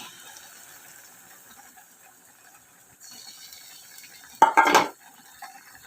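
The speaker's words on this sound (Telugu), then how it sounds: "ఇప్పుడు మామిడికాయ గుజ్జు వేసేసుకుందాం" Raw mango pulp going into a pan for a fish curry, with a soft sizzle in the background followed by one short, loud clatter of the addition near the end.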